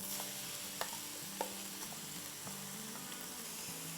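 Spiced minced meat sizzles softly in a pan as sauce is stirred through it for a Turkish pide filling, with a steady low frying hiss and a few sharp spoon knocks against the pan.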